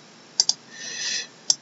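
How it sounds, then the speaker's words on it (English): Crisp computer mouse clicks, a quick double click followed by a single click a second later, close and clear over a faint hum with a brief soft rustle between. "Once you double click on that"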